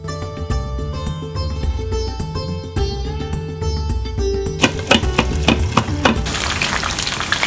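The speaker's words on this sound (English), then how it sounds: "So now we're going to saute the veggies, which are going to be put into the khichdi." Vegetables, including cauliflower, sautéed in a pan for khichdi, with a sizzle and stirring clatter that grows busier in the second half under steady background music.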